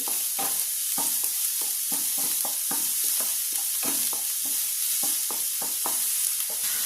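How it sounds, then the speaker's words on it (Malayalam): Curry leaves torn into small pieces sizzle and fry in a pan, with a steady high hiss running throughout and repeated short scraping strokes from stirring. "കുറച്ച് കറിവേപ്പില നമുക്കെടുത്തുനിന്ന് പിച്ചിയിട്ട് കൊടുക്കാം ചെറിയ പീസായിട്ട് ഇതൊന്ന് വഴണ്ട് വരണം"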